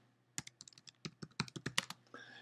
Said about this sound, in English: let's start our search by simply typing in the keyword technology